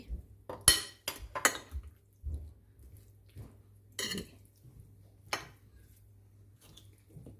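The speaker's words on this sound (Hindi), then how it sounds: "अब इसको आप अच्छी तरह से मिक्स कीजिए।" Chana chaat is stirred with lemon juice in a bowl, giving scattered light clinks and taps of a spoon against the dish, quiet and intermittent with pauses between strikes.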